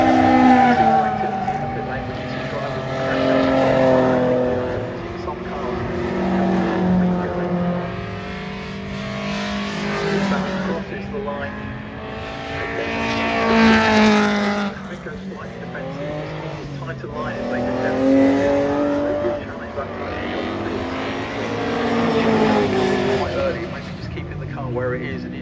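Racing cars roar past on the Brands Hatch GP circuit, engines rising and falling in pitch as they pass in repeated waves, loud and continuous.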